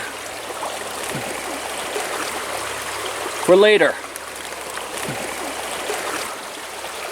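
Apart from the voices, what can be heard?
mountain stream water flowing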